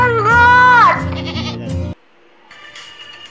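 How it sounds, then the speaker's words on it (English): A goat gives one loud, drawn-out bleat up close, wavering and falling in pitch, followed by a couple of shorter bleats before quiet. "G for goat."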